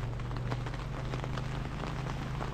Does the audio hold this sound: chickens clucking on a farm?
no